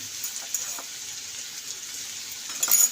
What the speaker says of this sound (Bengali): এবার ভালো করে এটাকে মিলিয়ে নেব।